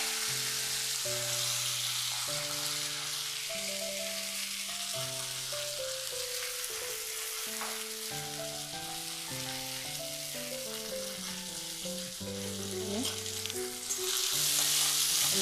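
Dried red chilli and curry leaves sizzle in coconut oil with mustard seeds for a beetroot and yard long bean thoran. A faint, continuous frying hiss runs under steady instrumental background music.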